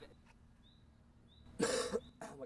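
A single sharp cough bursts out after a quiet moment, followed by a shorter second cough, fairly close.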